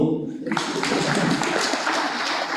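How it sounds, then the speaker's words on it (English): An audience at a school of physical sciences career fair breaks into steady, dense clapping that starts abruptly and holds at full strength, filling the room without any voices over it. "Okay, you can clap for me."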